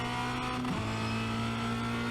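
A Formula Renault 2.0 race car at Spa-Francorchamps drops a gear; the loud, close engine note steps down abruptly mid-burst and then holds a steady high drone.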